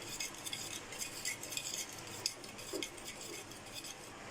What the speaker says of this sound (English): If you have whisk, use the whisk to break off the lumps and to make the smooth sauce.